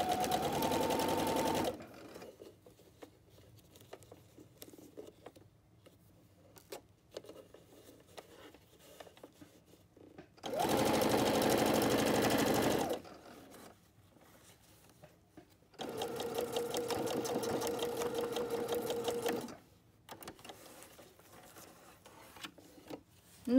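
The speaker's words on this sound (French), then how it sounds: "Nous avons réalisé donc les coutures de côté pour fermer notre pochette" Sewing machine stitching the side seams of a pocket lining, running in three loud continuous bursts of rapid needle chatter separated by quiet pauses while the fabric is turned, close to the listener.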